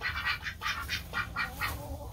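Ducks quacking in a straw-lined duck pen, a close, steady run of rhythmic nasal quacks repeating about every quarter second over low background noise.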